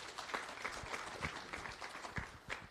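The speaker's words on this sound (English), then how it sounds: "Please give him a round of applause as well." A workshop audience gives quiet applause with soft, scattered claps that sound distant and faint. No one speaks over it.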